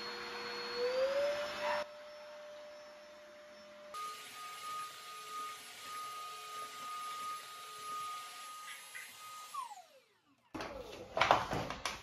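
A wet-and-dry floor vacuum cleaner hums steadily with a whining motor tone that shifts pitch, then spins down near the end before a brief rattle; no one speaks.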